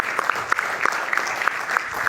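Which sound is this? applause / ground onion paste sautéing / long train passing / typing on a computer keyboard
applause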